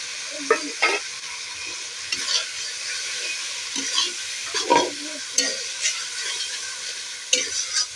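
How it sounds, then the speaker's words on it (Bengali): Ground peanut paste fries with spices in a pan, a steady sizzle punctuated by repeated scraping stirs throughout. "বাদাম বাটাটা এখন যতক্ষণ না একটু বেশ লাল মতো হয়ে যাচ্ছে ভাজা ততক্ষণ কিন্তু আমি ভাজবো"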